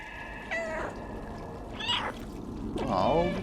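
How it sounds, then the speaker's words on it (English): Three separate cat meows from the cat protagonist of the video game Stray, sounding strained and unhealthy, spaced apart and moderately close over a quiet game background. "those meows aren't sounding too healthy"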